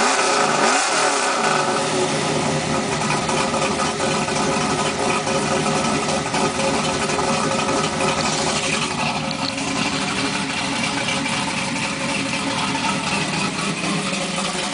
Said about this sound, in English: Let's hear a little rumble of this thing here.